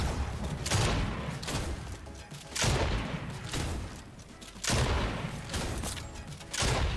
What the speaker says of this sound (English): Try the prime shotgun.